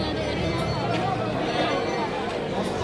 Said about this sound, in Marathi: खूपच गर्दी आहे.